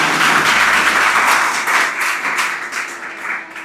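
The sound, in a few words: applause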